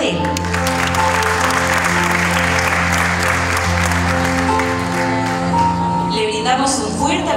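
Applause from an audience at a school graduation ceremony for students receiving their degrees, steady crowd clapping over a sustained musical tone, with a voice beginning to speak near the end.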